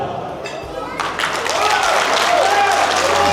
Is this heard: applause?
yes